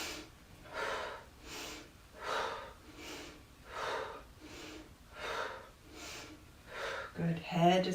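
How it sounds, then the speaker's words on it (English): Slow, rhythmic breathing during a chair yoga class, about seven even in-and-out breaths in a steady cycle, close and moderately loud, with a voice starting up at the very end. "Inhale, exhale, inhale, exhale, inhale, exhale."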